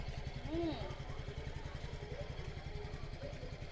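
A Yamaha Fascino scooter engine idles with a steady low putter throughout, close by, while people talk over it.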